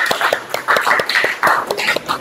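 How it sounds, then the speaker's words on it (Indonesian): Children in a school classroom clap together at the end of a lesson, producing a run of sharp, close, slightly uneven claps with a few louder bursts over about two seconds. "tepuk tangan buat kita semua."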